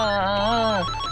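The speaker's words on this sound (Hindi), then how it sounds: "उसका फोन आ गया।" A phone rings in a dramatic indoor scene, a short melodic electronic ringtone with warbling tones, loud and close, then cutting off.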